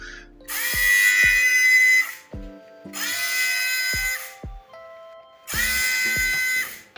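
Electric fabric shaver for removing pills from clothing, switched on three times in short bursts, each a high buzzing whine with a click at start and stop, close to the microphone with quiet gaps between.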